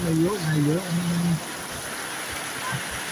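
Rain falling at a seaside province with choppy water, a steady hiss throughout, with a voice talking over it at first.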